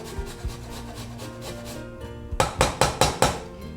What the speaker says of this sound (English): It grates down really easily when it's frozen.